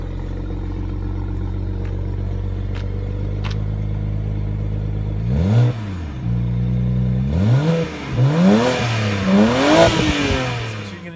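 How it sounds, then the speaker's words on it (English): A 2009 BMW 335i with its stock muffler idling steadily, then revved in several sharp rising-and-falling bursts, the exhaust close and loud with a deep rumble. "first we're going to show you guys how it sounds before we delete the muffler"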